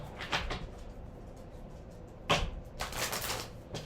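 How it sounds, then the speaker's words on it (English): Tarot cards are shuffled in short, crisp riffling bursts, one early, another midway and a longer run near the end, close and fairly quiet over a soft background hum. "Let's do 2 more shuffles."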